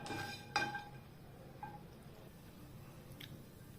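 Dates and kiwi fruit sautéed and mashed in a pan produce a few soft squishy presses and light utensil clinks against the pan, quiet and close, with no talk.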